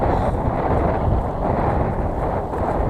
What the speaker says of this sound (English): that wind is hitting me right in the face